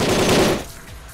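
A grenade launcher fires at a window in a video game, giving a loud, close, rough burst of blast noise that cuts off and fades within about a second, with no voices.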